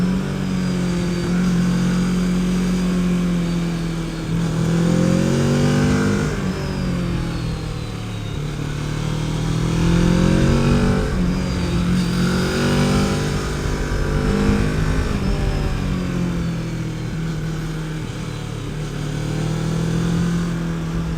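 A Kawasaki Z650 motorcycle with its stock exhaust revs repeatedly, its engine note rising and falling in steady waves. It is loud and close throughout, with no talking.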